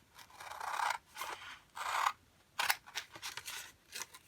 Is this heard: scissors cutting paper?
yes